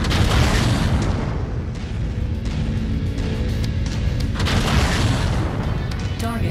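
An enemy target blown apart in the mech combat game MechWarrior 5: Mercenaries, a loud, sustained rumbling blast with dense low boom and crackle throughout, in the middle of continuous battle noise.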